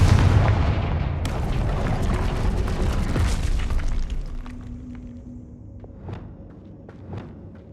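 A Confringo blasting curse in the Hogwarts Legacy video game erupts as a loud, booming explosion that rumbles and fades over several seconds, followed by a few faint crackles and thumps.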